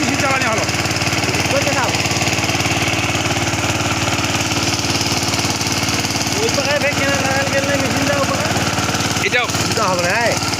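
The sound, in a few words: NIPPON petrol engine 3-inch pump running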